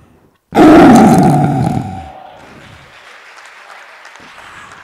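A man on a television talent show's stage imitates a lion's roar with his voice: one loud, sudden, rumbling roar that fades over a couple of seconds, followed by crowd applause and cheering.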